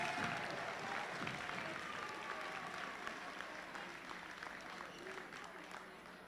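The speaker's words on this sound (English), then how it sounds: "Give yourselves a round of applause." A crowd at the Glenville Tarblooders high school pep rally claps for itself in sustained, dense applause that fades slightly over several seconds, with scattered cheering and voices mixed in.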